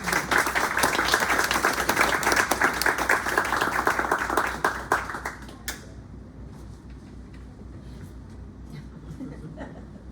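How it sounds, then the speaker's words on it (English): An open-mic poetry audience in a bookstore claps for a poet, a dense, lively round of applause that fades out around the middle, leaving quiet room tone and a few scattered sounds. "let's give a round of applause for Doug"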